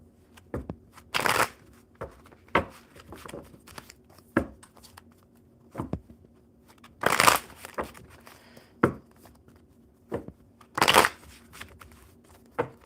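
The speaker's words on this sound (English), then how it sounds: "One more shuffle for Amin." Playing cards are shuffled by hand in a series of crisp riffle bursts and softer taps, several distinct shuffles spaced a few seconds apart, close and quiet otherwise.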